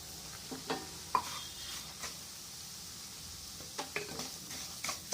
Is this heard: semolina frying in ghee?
yes